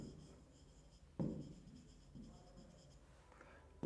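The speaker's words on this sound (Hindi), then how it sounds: "पहले मैं यहां पर लिखता हूं" Chalk or marker writing on a classroom board during an English lecture, with short scratchy strokes in bursts, fairly close and quiet with no talking.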